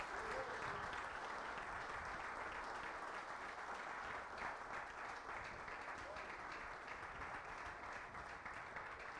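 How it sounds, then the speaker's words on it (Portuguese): A church congregation at a Sunday communion service applauds in a steady, dense wash of clapping that lasts the whole stretch, with a few voices mixed in. "Aplauda ao Senhor em nome de Jesus."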